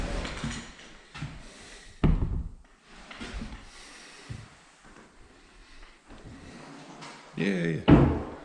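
Interior doors being installed, with several knocks, bumps and one or two louder slams as doors are fitted, opened and shut, scattered among quieter handling noises and talk.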